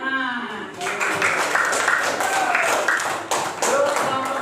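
A group at a school supervision session claps in a burst of loose, uneven hand claps, with voices talking over and around it.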